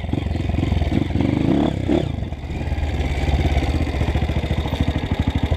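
Loud motorcycle engine out on a dirt trail, idling and chugging with a brief rev near the middle, then settling into a fast, steady pulsing putter up close.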